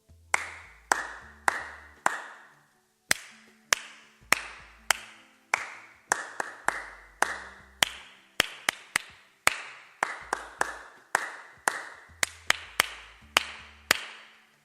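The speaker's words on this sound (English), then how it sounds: "you will be clapping a rhythm and you want the group to clap it back to you" A group clapping rhythms back during a rhythm game, crisp sharp claps in short patterned bursts separated by brief pauses, repeated call-and-response style over about fifteen seconds, close and clear with no talking.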